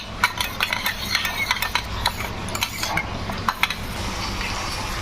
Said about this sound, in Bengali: এরপরে এটাকে একসঙ্গে মিক্সড করে নেব।